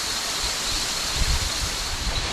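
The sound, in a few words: waterfall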